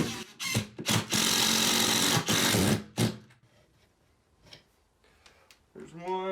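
A power drill driving screws to mount a floating shelf whirs in short bursts and one longer run of a couple of seconds, followed by quieter clicks and handling noises.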